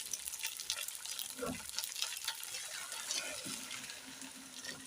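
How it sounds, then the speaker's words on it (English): Boiled water is poured into rice already sticking in a hot sufuria, giving a hissing sizzle and bubbling gush at moderate volume that fades into softer crackling, with no talk over it. "now it's time for me to add my already boiled water"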